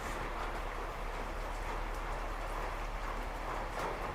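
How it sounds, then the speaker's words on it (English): Steady outdoor rain, a constant even hiss with faint patter throughout and no voices. "it's raining"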